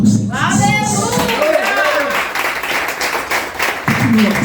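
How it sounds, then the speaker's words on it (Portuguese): A church congregation applauds the Lord during a sermon, with loud clapping rising under a preacher's voice and continuing densely with scattered shouts. "quem crê aplauda o Senhor"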